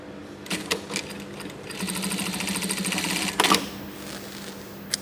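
A high-end sewing machine runs in short bursts as it stitches a fabric tag for a handmade business, with a rapid, even mechanical chatter that rises into a sustained run and then stops with a sharper back-tack burst. It sounds close and loud.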